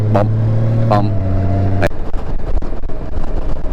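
A Honda Gold Wing cruiser motorcycle being ridden, its engine a steady low drone with wind and road rumble throughout, loud and close.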